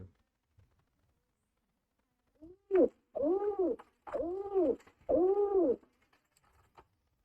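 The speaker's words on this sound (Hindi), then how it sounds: "ये कबूतर की आवाज है।" A pigeon coos three times in a row, low throaty warbling calls close by, after a short faint sound, with quiet between.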